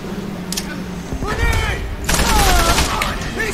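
Gunfire in the video game Call of Duty: World at War, friendly fire, with bursts of rapid shots and booming blasts layered over game effects, loud and close, while a voice talks.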